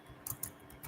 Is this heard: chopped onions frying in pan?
no